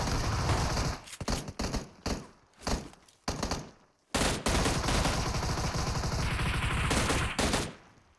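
Rapid bursts of gunfire in a PUBG fight on the Erangel map, loud automatic volleys broken by short pauses, then one long sustained stretch of shooting near the end.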